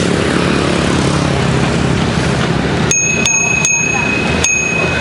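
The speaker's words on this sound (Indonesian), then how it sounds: "Bel berbunyi." Bicycle bell on a bike ride in Banda Aceh heading to Ulee Lheue beach, rung in four quick bright dings in the second half over steady outdoor traffic and wind noise.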